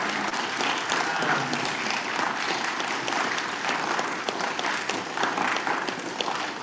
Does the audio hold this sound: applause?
yes